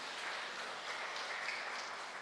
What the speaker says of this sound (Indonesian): Kita berikan aplaus, tepuk tangan untuk anak kita.